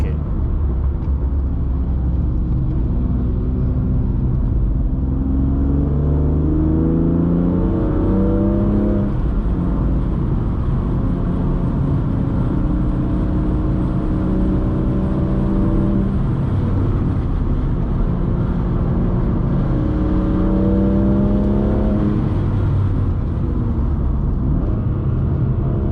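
Onboard engine of a BMW M2 race car lapping a circuit, a loud constant drone with repeated rising revs through the gears and drops on lifting, filling the whole stretch.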